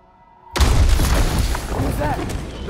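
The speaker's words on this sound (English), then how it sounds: "The bomb!" A bomb in God of War Ragnarök goes off with a sudden heavy boom after a quiet moment, its deep rumble and scattered debris rolling on for a couple of seconds.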